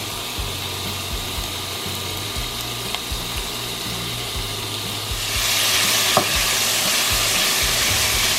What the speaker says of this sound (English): I just want it to gently cook the bacon